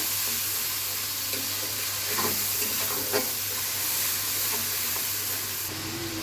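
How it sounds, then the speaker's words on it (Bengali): Ginger, garlic and onion masala fries in a pan for chicken roast, giving a broad, steady hiss and sizzle up close with a few faint stirring scrapes and no voices. "মশলাটা খুব ভালো মতন কষিয়ে নেব।"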